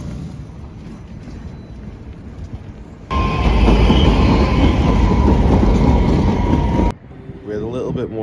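Stockholm tram rolling along its tracks, a loud steady rumble with rail noise lasting several seconds mid-clip, preceded and followed by quieter ambient sound and faint voices.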